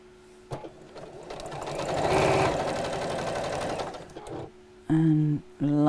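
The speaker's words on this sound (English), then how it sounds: "I'm sewing quite close" A sewing machine stitches fabric for a chair cushion, running close along the piping cord in a steady mechanical whir from about one to four seconds, then stopping. A few brief voiced sounds follow near the end.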